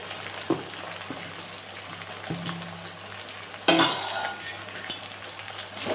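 Sweet corn and meal maker soy chunks fry in a pan, giving a steady soft sizzle under scattered spoon clinks and stirring scrapes, with one louder clatter midway.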